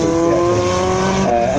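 A rear-engined Renault 5 Group B rally car at a hillclimb, its engine note close and loud with a steady, rising tone that holds for the whole short moment.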